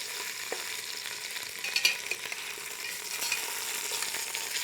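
Chicken browns in a pan for caldo de pollo, a steady, fairly faint sizzle with a few soft scrapes as the pieces are moved around.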